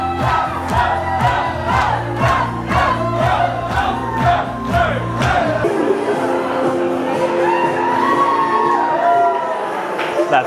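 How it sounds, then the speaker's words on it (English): A crowd cheers and shouts loudly for newlyweds at a wedding reception over pounding dance music with a steady beat that drops out partway, leaving the excited crowd noise. "Make some noise for the newlyweds, Doctors Alexa Armstrong and Billy Shoes."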